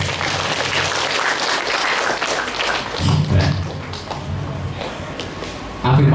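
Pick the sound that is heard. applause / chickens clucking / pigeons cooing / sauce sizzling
applause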